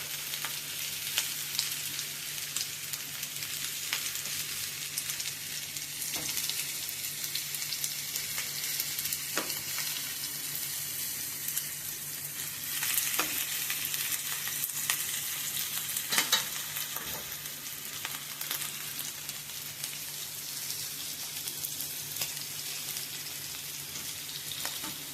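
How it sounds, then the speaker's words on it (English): Cornstarch-coated fish pieces fry in a pot of hot oil, a soft continuous sizzle and crackle with occasional pops, steady and fairly quiet throughout with no talking. "So I'm going to drop them in piece by piece and let them fry, quickly fry."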